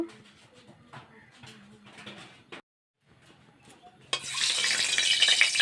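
A hot kadai on a gas stove gets oil for frying potatoes: quiet clinks and light handling give way, after a short silence, to a sudden loud, sustained sizzle.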